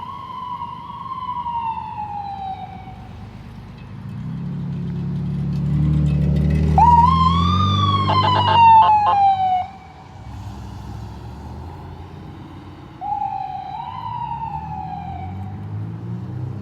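Fire truck sirens wail while responding, a long rising and falling tone that swells loudest in the middle with an air horn blast and a deep engine rumble, then fades and returns more faintly.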